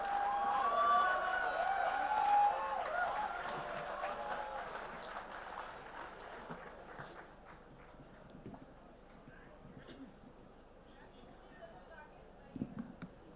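Applause from a mushaira audience greets poet Shabeena Adeeb at a grand Sahitya Aaj Tak gathering, loud at first and then thinning and fading, with a host's voice over it.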